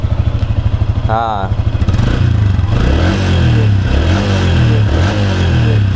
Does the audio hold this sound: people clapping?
no